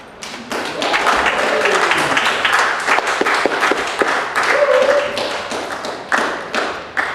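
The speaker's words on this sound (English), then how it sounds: "please put your hands together for this comic stylings of Brant" Theater audience at a live comedy show applauding as a comedian is introduced, a loud, steady round of clapping with a few whoops, holding strong before tapering slightly.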